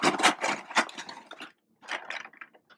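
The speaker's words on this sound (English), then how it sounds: "you need to crush 2 cups of cornflakes" Two cups of cornflakes are crushed by hand for a chocolate slice, a dense close crackling crunch in two bursts separated by a brief pause, with no talking.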